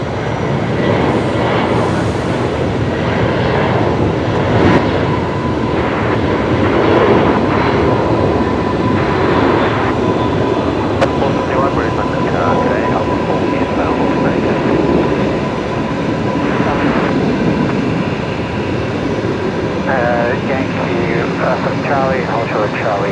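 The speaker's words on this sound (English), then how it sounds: "Corner 639 rolling now. The 7-3 heading to Melbourne." A Boeing 737 jet rolls for take-off at Brisbane Airport at night, heard as a steady, loud broadband roar that holds for over twenty seconds, with people talking over it.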